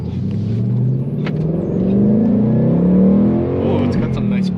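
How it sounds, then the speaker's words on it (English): Ford Mustang GT V8 engine pulling steadily on a test drive, a loud continuous rumble that rises gradually in pitch from inside the car, with talk over it. "We're gonna take this for a quick test drive, quick spin."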